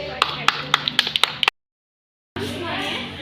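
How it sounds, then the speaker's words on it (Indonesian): A classroom claps for group 1, a short run of sharp, uneven hand claps from a few people up close that stops abruptly, with a gap of silence before room noise returns. "Tepuk tangan buat kelompok 1."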